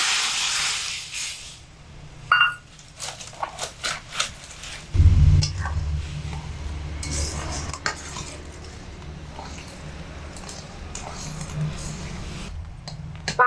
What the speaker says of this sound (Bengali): কড়া গরম হয়ে গেছে, কড়ার মধ্যে দুধটা দিয়ে ফুটিয়ে নেব।